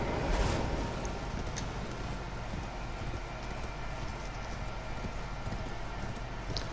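Horse hooves in the open-world video game Elden Ring, a steady galloping clip-clop over a constant wind-like background with no voices.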